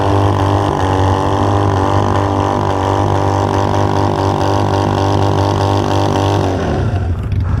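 A Honda Grom motorcycle engine drones steadily and loudly at high revs during a wheelie attempt, then drops away abruptly near the end.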